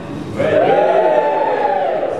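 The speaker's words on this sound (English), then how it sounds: "give me a cheer if you get your news online" A live audience at a stand-up comedy show bursts into loud, sustained cheering and whooping that rises sharply and holds steady until the end.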